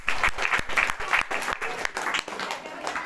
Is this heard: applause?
yes